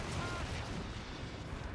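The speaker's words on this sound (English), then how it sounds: "His artillery attack really hurting those Stormtroopers." Artillery barrage from a Dawn of War 2: Retribution battle against Imperial Guard Stormtroopers, a dense rumbling wash of distant blasts and gunfire running continuously through the short stretch.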